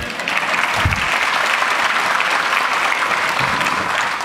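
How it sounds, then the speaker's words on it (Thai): A press conference audience applauds a Thai political announcement: dense, steady clapping from a crowd that holds at an even level for about four seconds with no voices over it. "อ่ะปรบมือได้ครับ"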